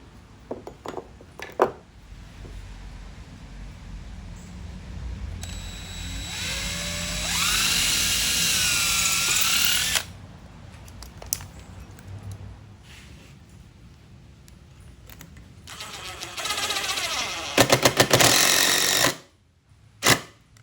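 A power drill drives screws into wood while fitting a rustic coat rack: whirring bursts rising in pitch as the motor spins up, separated by quieter pauses, with a final rough grinding burst that cuts off abruptly.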